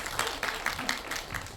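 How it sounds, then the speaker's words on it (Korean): Audience applause at a film community event Q&A, a modest scattered round of clapping with uneven bursts, moderately distant and fairly quiet. "박수 시원하게 치셔도 되는데"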